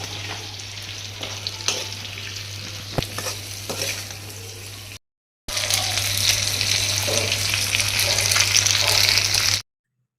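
Pork fries in oil with onion, spices and sesame, making a steady close sizzle with scraping stirring strokes, broken by a brief silence before a louder burst of frying.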